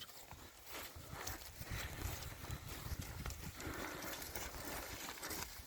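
Hooves clip-clop unevenly on hard ground at close range, the irregular thuds of a mare shifting and stepping around, with some rustling in between.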